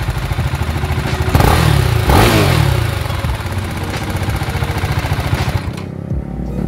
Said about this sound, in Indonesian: Suara motor emang agak kasar.